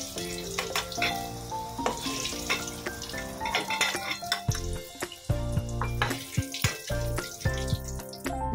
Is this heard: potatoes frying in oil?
yes